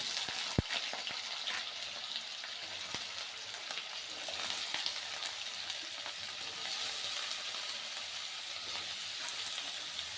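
Nigella seeds crackle and potatoes fry in hot oil for alu posto, a soft, continuous sizzle with a few sharp pops early on, faint and steady with no one speaking.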